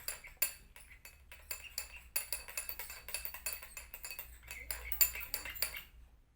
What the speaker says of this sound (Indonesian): Lalu kita aduk lagi ya.